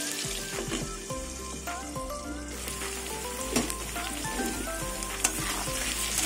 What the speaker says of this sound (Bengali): গ্যাসের আগুনটা কমিয়ে আলুটা ভালো করে ভেজে নেব।